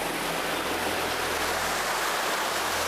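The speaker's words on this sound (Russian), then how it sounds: "выбивает целая река из-под скалы" A spring gushes from under a rock beside the Belaya River, water rushing in a steady, dense hiss, a powerful flow close by with no pauses.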